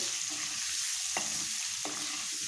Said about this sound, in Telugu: ఇందులో వేసుకొని ఎగ్స్ బాగా ఫ్రై అవ్వాలి.